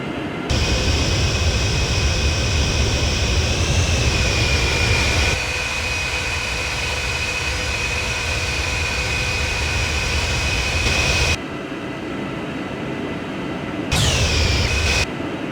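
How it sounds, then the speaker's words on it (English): Boeing 757 jet taxiing, a steady loud engine roar with a high whine that holds throughout, dipping briefly near the end before rising again; no talk. "Alright, we're going to execute our taxi now."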